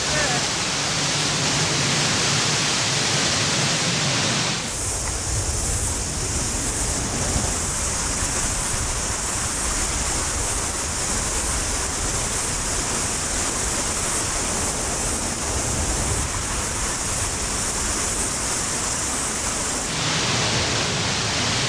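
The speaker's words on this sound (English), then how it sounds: "this is where the stream sort of splits off" Whitewater rapids roar where a stream splits at the Tarawera Cascades in the Bay of Plenty, New Zealand: a loud, continuous rush of water that swells sharply a few seconds in and eases slightly near the end.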